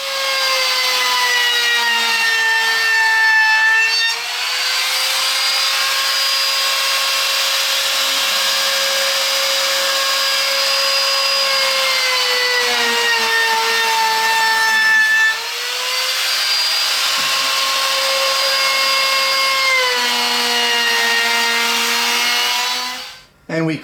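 A router cutting a 1/4 inch roundover along the wooden edge of a roll top desk, a steady high-pitched whine held for over twenty seconds with slight dips in pitch as it moves along the wood.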